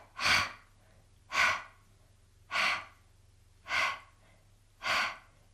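Five slow, evenly spaced breaths, each a soft airy rush swelling and fading about a second apart, close and clear over a faint low hum during a beginner Kegel exercise session.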